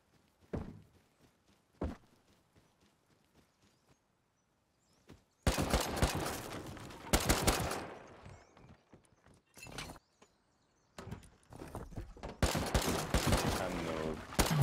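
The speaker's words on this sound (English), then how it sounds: "What's she shooting at?" Gunfire in a video game, scattered single shots early, then loud bursts of rapid fire in clusters with gaps between, close and sharp.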